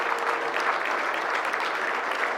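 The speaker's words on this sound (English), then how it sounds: "I would ask you for a second round of applause as we welcome him today" Audience applause welcoming Connecticut Governor Lamont to a gathering, a steady, dense wash of clapping from a large crowd that holds evenly throughout without pause.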